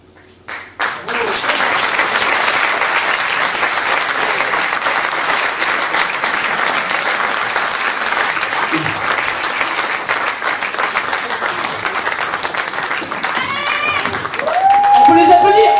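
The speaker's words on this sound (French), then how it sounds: "On peut les applaudir." A concert audience at an outdoor show in Le Vigan bursts into loud, sustained applause, dense clapping and crowd noise rising after a brief lull and swelling again near the end, with some voices mixed in.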